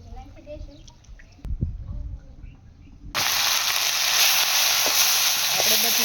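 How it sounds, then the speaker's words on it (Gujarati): Greens dropped into hot peanut oil with garlic set off a loud, steady sizzle that starts abruptly and carries on, after a quieter stretch of softer kitchen sounds. "તો આપણે લસણ સડી ગયું છે તો હવે આપણે એમાં ભાજી નાખી દઈશું।"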